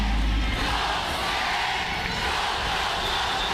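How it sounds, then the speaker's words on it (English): Crowd at a UAAP women's volleyball match between DLSU and UST after a long rally, with a steady, loud wash of voices chanting and cheering throughout. "you now hear the chants of Go Uste"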